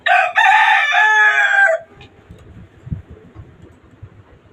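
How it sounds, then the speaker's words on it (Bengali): A tiger rooster crows once, loud and close, for nearly two seconds, followed by quieter low clucking and rustling, on a rooftop chicken farm. "এটা আমার আরেকটা টাইগার মোরগ"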